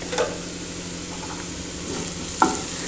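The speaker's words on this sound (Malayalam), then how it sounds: "നന്നായി അതൊന്ന് വഴറ്റിയെടുക്കാം" A spiced potato filling for stuffed poori sautés in a pan with cumin powder, a steady close sizzle under scraping stirs, with a couple of sharper spoon strikes against the pan.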